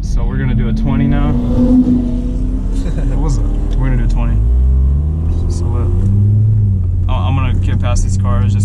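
C6 Corvette engine revving and accelerating from inside the car, a loud rising rumble that shifts pitch, with voices talking over it.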